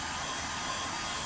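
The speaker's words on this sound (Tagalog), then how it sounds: "Blower." Leaf blower running steadily up close, a constant broadband whooshing roar with no break across the short stretch.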